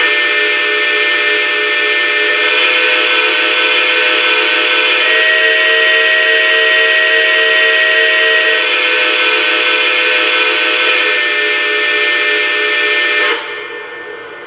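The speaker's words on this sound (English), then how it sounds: "go through the whistle for you real quick so that you can hear the 3 levels of whistle that we have in this" A Lionel LEGACY 4-12-2 three-cylinder model steam locomotive sounds its whistle in one long, loud, sustained chord that shifts tone partway through across its three levels before fading at the end.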